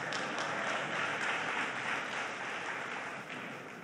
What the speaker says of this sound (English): Give the power forward a round of applause.